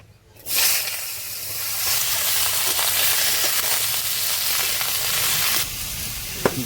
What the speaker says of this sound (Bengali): তেল দিয়ে দিই কড়াইতে কুশি ভাজা করার জন্য। কেটে রাখা কুশি দিয়ে দিচ্ছি।